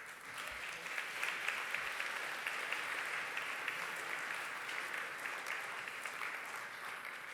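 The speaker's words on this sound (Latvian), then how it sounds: "dāmas un kungi, aplausus lūdzu" Steady applause from an audience at an architecture awards ceremony, continuous dense clapping at moderate distance with no voices over it.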